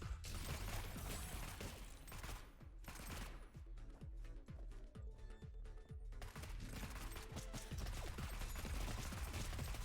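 Rapid gunfire from a frantic run through rooms in the video game Neon Abyss, a loud, dense stream of overlapping shots and bursts with no break, layered over game music and effects.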